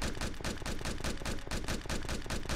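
Rapid automatic gunfire from a blocky Minecraft-style video game, a steady, loud string of close shots used to blast a path upward, with no voices over it.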